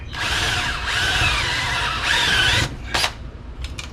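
Power drill running in reverse as it bores through thin 5mm plywood on a cargo trailer door, a loud whining squeal with wavering pitch for over two seconds, then a few short bursts of bit noise.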